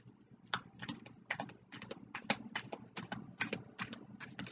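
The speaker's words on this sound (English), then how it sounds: "It always takes me like a shuffle or two to get the feel for this deck" A new, slippery archetype card deck is shuffled in a quick, steady rhythm of soft, close clicks and flicks, repeating regularly without talk.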